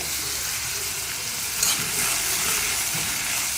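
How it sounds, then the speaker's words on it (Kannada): Steady, loud sizzling of onion and chillies frying in a hot pan, with faint stirring scrapes throughout and no talking. "ಒಂದು ದೊಡ್ಡ ಈರುಳ್ಳಿ ಹಾಕಿದ್ದೀನಿ ಎಲ್ಲ ಹಾಕ್ಕೊಳ್ಳಿ ಇಲ್ಲಿ ಚೆನ್ನಾಗಿ ಫ್ರೈ ಮಾಡ್ಕೋಬೇಕು"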